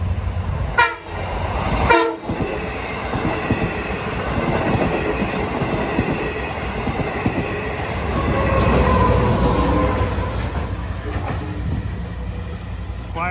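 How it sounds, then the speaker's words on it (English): Long Island Rail Road train 607, running from Port Jefferson to Long Island City, passes Nassau Tower in Mineola with two sharp horn blasts, then a long, loud, roaring rush of wheels and cars rolling by close at hand. "Should have train 607 coming by from Port Jefferson to Long Island City."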